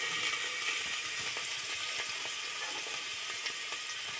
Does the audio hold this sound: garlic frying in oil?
yes